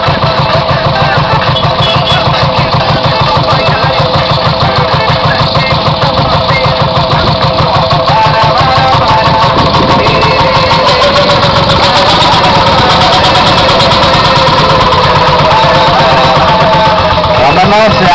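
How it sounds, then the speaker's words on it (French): Vintage 1960 Lantini 3000 tractor, 28 horsepower, 10 cylinders, running steadily at a threshing festival in Saint-Christophe, a loud, continuous rhythmic engine chug with no break throughout. "Lantini 3000 de 1960, 28 chevaux, 10 cylindres, à Edmond Bouillard de Saint-Sulpice"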